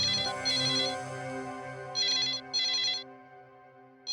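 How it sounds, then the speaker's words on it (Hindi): A telephone rings in repeated bursts in a tense indoor scene, its electronic tone loud and close, separated by brief pauses. "शायद किडनैपर का फोन होगा। नीलेश, फोन उठाओ"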